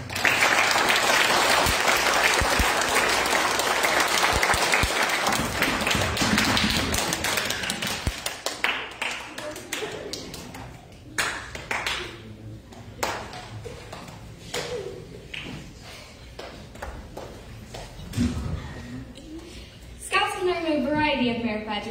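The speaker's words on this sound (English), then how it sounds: "Let's give them a big round of applause." An audience at a Scout troop Court of Honor gives the scouts a full burst of applause lasting about eight seconds, then it dwindles to scattered claps and knocks with voices talking, closing with a brief swell.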